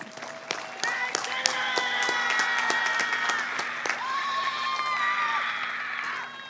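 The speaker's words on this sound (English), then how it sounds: "Let's give our distinguished scholars another round of applause" A graduation crowd applauds its distinguished scholars with sustained clapping, rising cheers and whoops, loud and lively throughout before easing slightly near the end.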